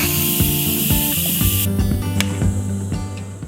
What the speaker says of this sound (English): Cook time is complete, so I am going to quick release the pressure.